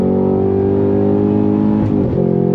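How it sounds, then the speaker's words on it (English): A 2023 Cadillac CT5-V Blackwing sedan accelerates hard with traction control engaged, its loud sustained engine drone holding steady, then briefly dipping and stuttering before the pitch climbs again, heard from inside at close range. "You can hear the traction control doing its thing."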